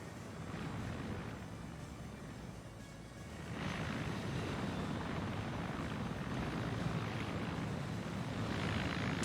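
Video game helicopter rotor and engine drone close by, a continuous thrumming roar that swells louder midway as the aircraft nears.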